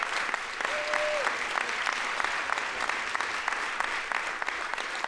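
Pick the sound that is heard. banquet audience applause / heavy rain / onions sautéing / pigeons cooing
banquet audience applause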